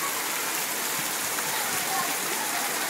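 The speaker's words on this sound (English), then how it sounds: "This is the hardest rain we've had so far," Heavy rain pours steadily outside a dining hall, a dense, even hiss of drops on surfaces that stays loud and unbroken throughout.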